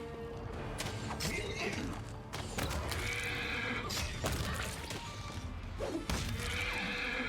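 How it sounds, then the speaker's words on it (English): Plagued horse in Pathfinder: Wrath of the Righteous, loud repeated whinnies and neighs alongside creaking mechanisms and heavy thuds, close and busy game sound with no talk. "And there's a plagued horse."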